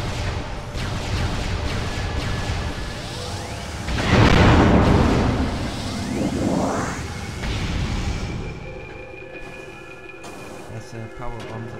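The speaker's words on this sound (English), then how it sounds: "Power bombs are pretty cool." Power bomb explosions in the video game Metroid Prime: a loud booming blast with a sweeping whoosh swells and fades over several seconds, followed by a smaller rising sweep, under game sounds and a voice talking.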